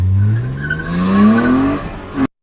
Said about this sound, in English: Number 4, we got the car driving by.